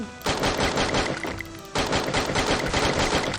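Rapid automatic gunfire in the Free Fire game, two long dense bursts of rattling shots split by a brief pause, loud and close with no talking.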